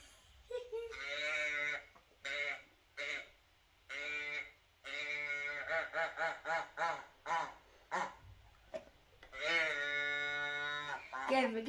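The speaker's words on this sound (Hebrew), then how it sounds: "זה עושה קולות של כבשה." A sheep-shaped toy lets out repeated electronic bleats in bursts, some short and some drawn out, close and fairly loud with brief pauses between them.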